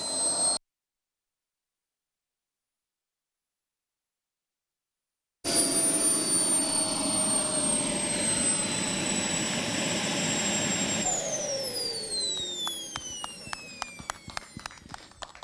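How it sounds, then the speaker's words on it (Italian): A small aerobatic airplane roars loudly through a pass, its engine pitch sliding steadily downward, then fading into sharp crackling pops as it recedes. A brief burst of sound comes before a long stretch of silence. "su queste spettacolari evoluzioni di questo aereo"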